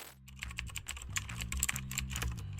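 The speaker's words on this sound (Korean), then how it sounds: "오랜만에 키보드를 치니까 이거 어렵네" Rapid, uneven clatter of keystrokes on a computer keyboard during a web search, close and crisp with a steady run of clicks and no voices.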